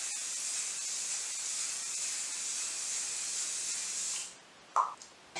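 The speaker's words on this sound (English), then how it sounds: "I always use the Hint Cosmetics setting spray, because it just makes my makeup intact and in place" Hint Cosmetics makeup setting spray misted close by in one long, steady hiss lasting about four seconds, then a brief click and rustle as the bottle is handled.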